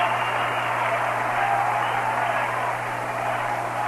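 Baseball stadium crowd of about 33,000 in Cincinnati applauding a Mets at Reds game, a steady dense roar of clapping and crowd noise with a low hum underneath, broadcast over radio.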